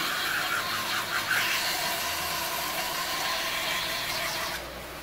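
A belt grinder runs steadily with a slack belt between the idler wheel and main platen, a close, continuous whirring hiss with faint squealing and light periodic tapping near the start, easing slightly at the end.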